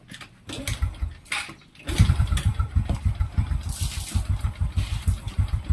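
A Honda RS 125 motorcycle engine, a carbureted two-stroke, idles low and quiet after a brief rev, a steady rapid pulsing putter close by with no talk.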